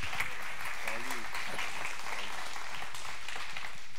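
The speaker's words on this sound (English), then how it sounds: "Give him a round of applause as he comes up." A church congregation claps steadily, a dense, sustained round of applause with a few voices calling out over it as a guest speaker comes up.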